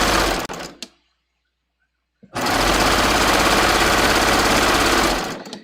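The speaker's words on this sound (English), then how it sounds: "I'm sewing the underarm seam straight through to the side seam all in one step now" Sewing machine stitching the underarm seam of a raglan top: a short burst, a pause of silence, then a loud steady rapid whir of stitching for several seconds, close by, ending with a brief stop.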